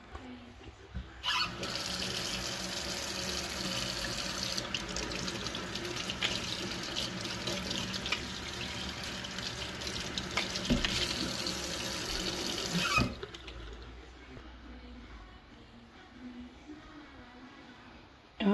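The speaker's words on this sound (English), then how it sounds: "Let me rinse this can opener off." A kitchen tap runs in a strong, steady stream while a can opener is rinsed under it, a close broadband gush lasting about twelve seconds before cutting off to quiet room sound.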